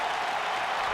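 A wrestling crowd at a live independent show makes a broad, steady roar of cheering and noise that fills the whole moment, with no individual voices standing out.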